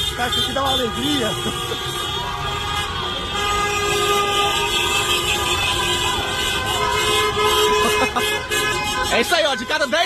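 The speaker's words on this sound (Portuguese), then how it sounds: "De cada 10 carros, 11 estão buzinando." Dense, overlapping car horns blare at a street protest in Goiânia, Brazil, loud and close and unbroken throughout, with someone talking over the honking.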